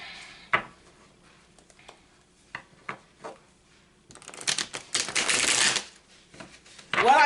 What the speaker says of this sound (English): Give this a nice shuffle.